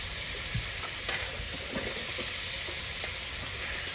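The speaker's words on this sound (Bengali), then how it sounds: "এবার একে একে সবগুলো সবজি দিয়ে দিচ্ছি" Mixed vegetables going into a pan of dried surma fish curry, a loud constant sizzle with scattered stirring knocks and scrapes of a spoon, close up and free of speech.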